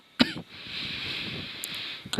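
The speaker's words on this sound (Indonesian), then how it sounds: "Kok aku rada batuk sedikit ya." A person gives one sharp, close cough, then a low hiss follows, ending with a second short throat sound.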